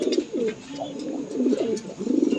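Close, continuous throaty cooing comes from blue stretcher pigeons at a fancy pigeon farm in Tangail, with soft rolling coos overlapping in a steady rhythm and no talk.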